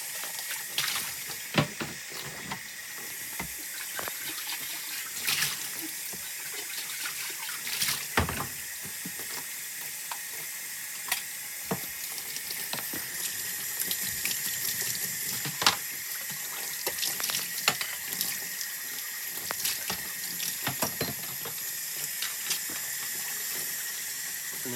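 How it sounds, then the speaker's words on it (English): A tap runs steadily into a sink while dairy milking equipment is rinsed in cool to lukewarm water, giving a continuous close splash broken by frequent clinks and knocks of the parts being handled. "I rinse everything off in cool to lukewarm water"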